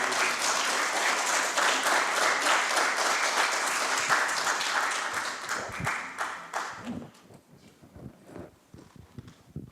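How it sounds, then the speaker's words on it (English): A membership meeting audience gives a loud round of applause. The dense clapping holds for several seconds, then thins out into a few scattered claps and shuffling. "let's give them a round of applause"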